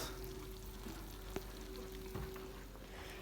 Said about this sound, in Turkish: İç hala fokur fokur kaynıyor